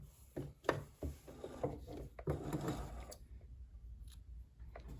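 A Kenmore 385 series sewing machine sews a smocking stitch on knit fabric, giving a quick run of rhythmic mechanical thumps and whirring, then pausing into faint clicking, close and fairly quiet.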